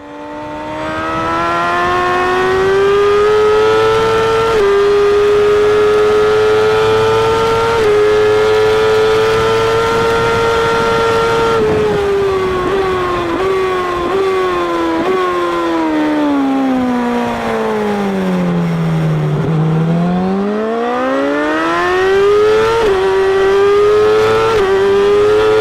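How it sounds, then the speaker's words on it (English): A motorcycle on a race track, loud and close, its engine note holding steady, then dropping low and climbing smoothly again as the throttle is opened gently on a corner exit, with no talk over it. "please pay attention to the way I open the throttle on the corner exit"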